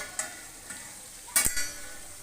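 Mutton karahi cooks in a pan as tomatoes are added, giving a soft, steady sizzle with a couple of light clinks and a brief louder splash and clatter near the middle; quiet and close.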